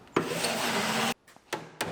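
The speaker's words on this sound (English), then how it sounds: "We'll drill the 5/16 holes." A cordless drill bores 5/16-inch holes in a Mustang body panel, one sustained close, loud whir with a few shorter bursts after it.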